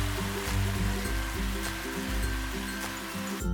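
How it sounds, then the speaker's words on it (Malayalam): Beef frying in oil already flavoured with onion and curry leaves, a steady close hiss and crackle running throughout under a low rhythmic hum, with no voices. "ഈ എണ്ണയിലാണ് നമ്മൾ ബീഫ് ഫ്രൈ ചെയ്തെടുക്കാൻ പോകുന്നത്"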